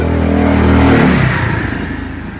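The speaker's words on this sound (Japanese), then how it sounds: "バイクうっせえな" A motorbike engine revs loudly nearby, then the roar drops away as the throttle eases off.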